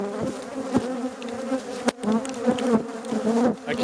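Agitated bees swarm around an opened hive in winter, their dense buzzing loud and close as individual insects zip past the microphone over a few seconds.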